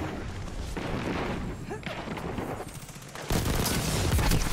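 Auto rifle gunfire in Destiny 2 multiplayer, rapid bursts rattling under voice chat and game noise, growing louder and denser near the end.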